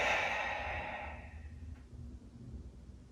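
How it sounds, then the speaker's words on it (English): A deep breath during tai chi standing meditation: one long, soft exhale that starts fairly strong and fades into quiet, close to the listener, with no talking. "So breathe in, inhale up, and exhale down."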